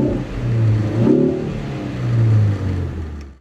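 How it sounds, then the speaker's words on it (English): A 2013 Ford Focus hot hatch engine revs up twice, its exhaust note rising and falling in loud, close bursts with a synthetic-sounding tone. "I have to point out the car's exhaust note, which is pretty cool"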